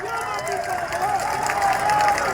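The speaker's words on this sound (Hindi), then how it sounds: "मल्याणपुर कार्यक्रम को आप लोग ताली बजाकर स्वागत कीजिए।" A crowd at a political election rally in the historic Gandhi Maidan, Masaurhi, keeps up a steady patter of applause and cheering, with voices and a tuneful background running underneath.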